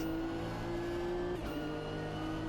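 Toyota GR Supra GT race car in Automobilista 2 at Fuji Speedway drives under steady, loud engine drone with sustained harmonic tones, a brief shift-like dip near the middle before the note resumes, no talking.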